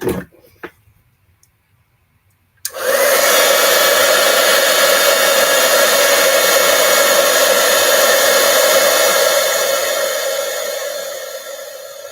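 After a few faint clicks and near silence, a heat tool for card-making switches on and blows with a loud, steady whooshing roar that continues to the end, tapering slightly as it warms the material.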